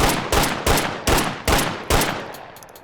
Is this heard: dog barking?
no